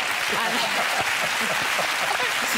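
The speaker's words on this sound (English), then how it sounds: "I can't believe people are applauding you for remembering the names of people in your own film." A studio audience on The Graham Norton Show applauds in a steady, dense wash, with voices talking over the clapping throughout.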